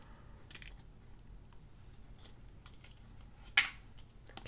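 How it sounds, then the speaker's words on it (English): Scissors make faint, close snips while cutting around paper for a junk journal page, a few soft crunchy cuts with one brighter sharp snip near the end. "so I'm going to cut around this."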